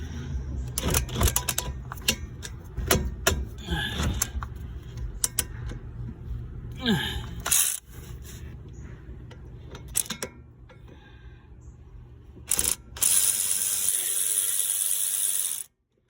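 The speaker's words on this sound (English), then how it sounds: "Take those 2 bolts out." Ratchet working on the brake caliper bolts of a 2007 Honda Accord: bursts of quick clicking and metallic clinks, pauses between runs, a clatter as parts are handled, close by with no talking.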